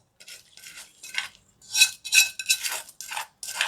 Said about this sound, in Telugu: నూనె కాంచి పెట్టుకున్నాము, చల్లగా అయిపోయింది. ఇప్పుడు దీంట్లో వేసి కలిపేద్దాం.